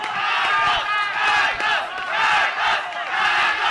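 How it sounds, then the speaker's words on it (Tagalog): A boxing-match crowd chants in loud, rhythmic surges that swell and dip about once a second, filling the arena with massed voices. "And the crowd chanting"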